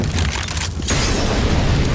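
A Molotov cocktail thrown on the Dust2 map in Counter-Strike bursts into a low, rumbling whoosh of fire that swells after a brief lull and keeps roaring steadily and loudly to the end.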